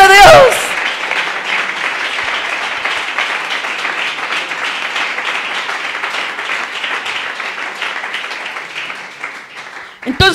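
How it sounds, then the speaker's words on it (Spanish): Congregation applauding at a Spanish-language church service, a dense, steady wash of clapping sustained for about ten seconds, loud and close, with a brief voice at the very start and end. "¡Dale un aplauso a la gloria de Dios!"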